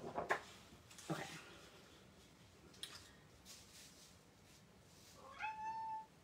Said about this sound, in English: that is my cat who needs to go out